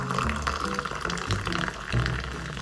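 A carbonated Flying Power Extreme Sour drink is poured from high up into a glass, a steady, close fizzing and gurgling pour that lasts throughout.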